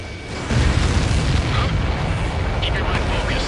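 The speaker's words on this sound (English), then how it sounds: "Missile away." Missile launch and explosion in the Ace Combat 7: Skies Unknown jet combat game, a loud rumbling boom that swells after a brief lead-in and holds as a dense, sustained roar with crackling bursts on top.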